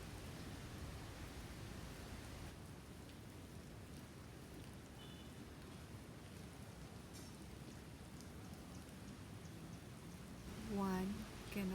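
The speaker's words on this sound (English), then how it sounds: "you can only hear the sound of wind in the trees" Wind rushes steadily through trees in a valley during a typhoon, with leaves rustling as a continuous even wash of sound and a few brief chirps near the end.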